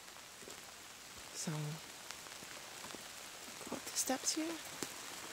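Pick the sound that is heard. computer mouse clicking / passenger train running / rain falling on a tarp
rain falling on a tarp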